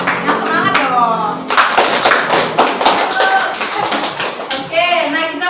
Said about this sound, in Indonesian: Boleh beri tepuk tangan buat kita semua?